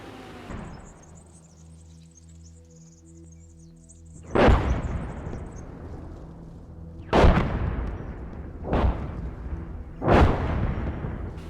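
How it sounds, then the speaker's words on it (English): An artillery barrage lands in the PC tank game Gunner HEAT. Four heavy booms come at uneven intervals, each trailing off in a rumble, over a low vehicle hum. "then I'm gonna call in artillery, and as well as artillery just right at objective Romeo"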